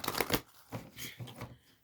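A deck of tarot cards being shuffled up close, a quick riffle followed by several softer shuffling bursts, with no talking.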